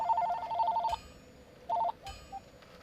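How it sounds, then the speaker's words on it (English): A telephone rings in short electronic bursts: a long trilling ring, a pause, then a shorter ring and a couple of faint chirps, fairly close with no talk over it. "That is a phone."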